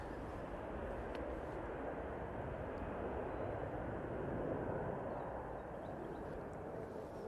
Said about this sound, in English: Nice rotation, and that TUI is in sight.